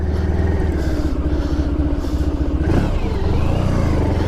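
1994 Honda ST1100 touring motorcycle cruising along, a steady low engine drone with wind noise and a brief shift in pitch midway, loud and constant throughout.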